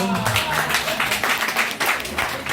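A crowd applauds at a parents' hangout in Lagos, dense steady clapping that holds for a couple of seconds, with voices mixed in underneath.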